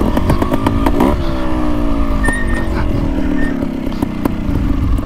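A trials motorcycle engine runs close and loud, revving and settling with a rough, rapid putter and some clattering throughout.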